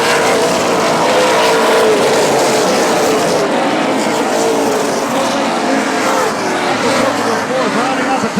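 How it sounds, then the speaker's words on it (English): Pro Modified race cars roar around Central Texas Speedway in a 50-lap main event, a loud, continuous engine drone with passing surges, while an announcer talks over the racing throughout. "Your Pro Modified 50-lap main event racing for you here at the KVET 250"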